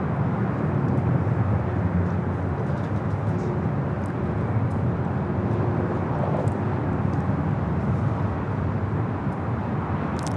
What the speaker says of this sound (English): Next arrival here on the north side is JetBlue Flight 323 coming up from JFK. It's an A321 Neo